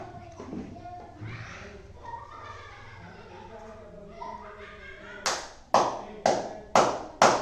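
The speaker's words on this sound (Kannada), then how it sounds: "ಅವಳು ಸಿಲಿಂಡರ್ ಮುಟ್ಟಿದ್ದು ಅದು 5ನೇ ಚಿತ್ರ, 5 ಚಪ್ಪಾಳೆ ಹೊಡೆದಿದ್ದಾಳೆ" A child in a classroom counting game claps hands five times in a steady rhythm, crisp and close, after a stretch of children's and adult voices talking.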